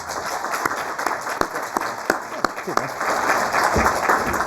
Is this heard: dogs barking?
no